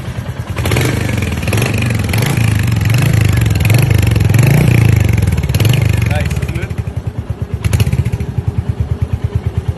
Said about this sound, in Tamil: எக்ஸாஸ்ட் நோட்டு பார்த்தீங்கன்னா அந்த ஒரு பழைய சவுண்ட் அளவுக்கு வந்து இல்லை அப்படின்னாலுமே கூட சவுண்டு பார்த்தீங்க அப்படின்னா நல்லாவே வந்து கொடுத்துருக்காங்க